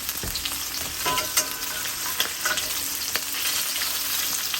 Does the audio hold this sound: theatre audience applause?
no